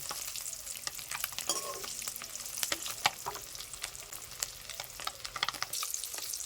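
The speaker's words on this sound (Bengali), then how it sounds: "দেখুন লাল লাল করে ভেজে নিয়েছি আজকে" Eggs frying in hot oil in a pan while being made into an egg and potato curry, with a steady crackling sizzle and occasional sharper pops and spatters throughout, close and alone.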